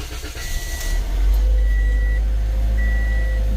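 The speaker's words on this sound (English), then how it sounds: "The vehicle starts up and stays running" A 2016 Toyota Corolla engine cranks and catches about a second in, then settles into a steady, close low idle rumble, with several short electronic beeps sounding over it and no talking.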